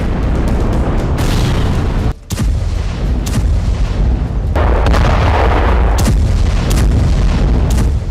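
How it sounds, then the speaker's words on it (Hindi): Airstrikes on Gaza produce loud, heavy explosions: a dense rumbling barrage broken by repeated sharp booms, with one brief dropout before the blasts continue. "आसमान से गाजा पर हमले तेज हो गए।"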